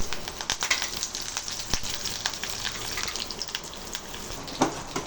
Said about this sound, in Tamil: தேங்காய் எண்ணெய் போகிறேன், கடுகு வந்து வரும், வெங்காயம் போடுங்க.